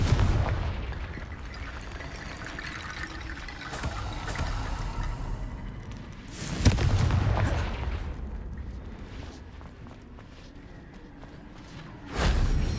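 Booming magical blasts from the Confringo fire spell in the video game Hogwarts Legacy, heavy explosive thuds with whooshes over a constant rumbling background, one big burst midway and another near the end.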